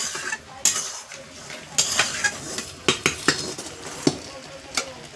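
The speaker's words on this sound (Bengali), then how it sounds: "এবার আমি নামিয়ে নেবো কড়াটা নিচে" Wok of hog plum pickle lifted off a stove, with a run of metallic clanks and scrapes of utensils against the pan over a soft sizzle, irregular and close.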